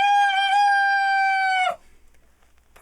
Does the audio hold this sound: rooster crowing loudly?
yes